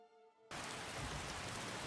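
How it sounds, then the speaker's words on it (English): A tonal hum cuts off abruptly and steady heavy rain takes over, a dense hiss of drops falling close by, in the video game Skyrim. "It's raining still."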